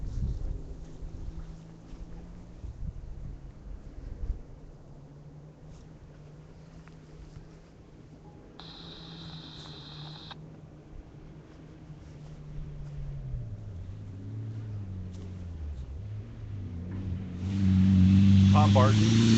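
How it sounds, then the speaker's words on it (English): An old Evo rally car on stage SS1 Hunters Pond Reverse of the 2013 Sandblast Rally approaches under wind-buffeted low rumble, its engine note climbing and swelling loud and close at the end. "Hear another car coming."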